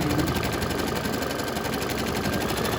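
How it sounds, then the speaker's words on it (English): An embroidery machine stitches a placement circle for vinyl on a St. Patrick's Day coaster, a continuous fast buzzing needle rattle with a fine rhythmic pulse, steady and close throughout, with no talking. "It's going to show you a placement stitch where you're going to be putting your vinyl."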